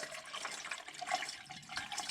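Liquid, likely coolant, poured through a funnel during a B95 water pump replacement, a steady close trickling and gurgling stream with a few brighter splashy glints, running continuously without talk.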